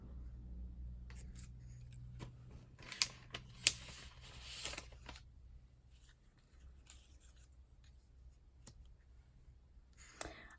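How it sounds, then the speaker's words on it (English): Scissors snip paper mushroom shapes for a journal craft in a few quick close cuts and clicks, with quiet rustling and handling of the paper over a low background hum. "I do need to cut myself some more mushrooms."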